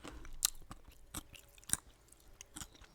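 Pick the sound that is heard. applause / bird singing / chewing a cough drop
chewing a cough drop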